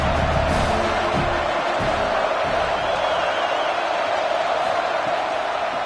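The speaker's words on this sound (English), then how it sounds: "The crowd elevating its energy, willing this defense to get a stop on this big 3rd down." Stadium crowd cheering in College Football 27 during Wisconsin vs USC on a big third down, a steady, dense roar of fans that holds at an even level throughout.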